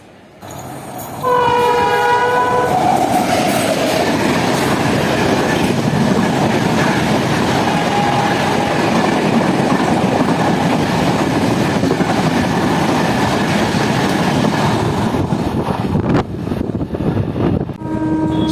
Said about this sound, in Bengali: 12041 হাওড়া নিউ জলপাইগুড়ি শতাব্দী এক্সপ্রেস। ফ্ল্যাট 110 স্পিডে আমাদের মল্লারপুর রেলওয়ে স্টেশনের 3 নম্বর প্ল্যাটফর্ম দিয়ে ক্রস করবে।